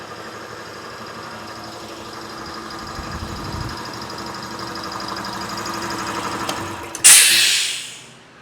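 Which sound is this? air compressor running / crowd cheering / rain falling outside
air compressor running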